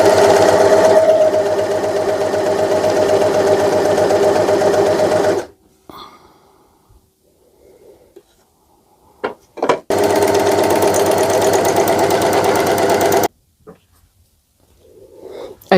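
An overlocker sewing gathering stitches into fabric runs in a loud, steady, rapid mechanical whir for about five seconds, stops for a few quiet seconds with small handling clicks, then runs again in a second burst.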